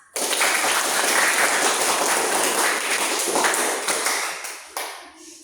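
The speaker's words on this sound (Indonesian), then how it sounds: "Tepuk tangan dulu bagi teman kita yang dapat menyimpulkan pelajaran kita" Classroom applause for a student who summarized the lesson: a dense, steady burst of many hands clapping at once, loud and close, holding for about four seconds before thinning out into a few scattered claps.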